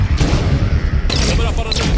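Gunfire in the video game Halo 5 Guardians rattles as a continuous, heavy volley of rapid shots and booming impacts, loud and dense throughout the short burst of combat.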